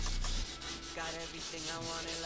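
Light hand sanding with a fingertip pressing the paper into a recessed spot on a model kit part, a soft, close, steady rubbing in short strokes, quiet and alone.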